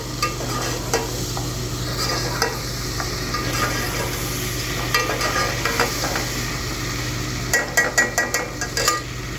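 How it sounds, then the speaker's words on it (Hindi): Chicken pulao cooking in a pot in a rural Pakistani village kitchen, giving a steady sizzle with stirring, and toward the end a cluster of sharp metallic clinks as a utensil scrapes and knocks the pot. "ये बन रहा है मज़ेदार सा चिकन पुलाव।"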